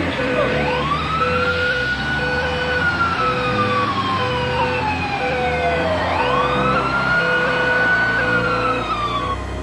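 Jacksonville fire rescue units, including fire engines, a rescue unit and a ladder truck, respond with wailing sirens rising and falling in long sweeps, with a repeating horn-like pulse and steady loud traffic rumble beneath, continuous throughout.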